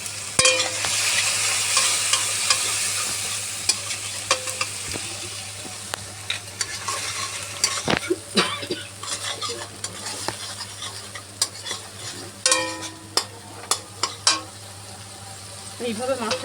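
Fish curry sizzles steadily in hot oil after chili powder and tomato go in, with a constant frying hiss under repeated scraping and clinking of a spoon stirring in the pan.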